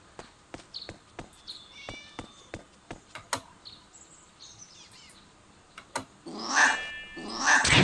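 Cats meow loudly in the Beyond Divinity video game, several overlapping cries close together near the end, after a stretch of sharp clicking footsteps and faint bird-like chirps.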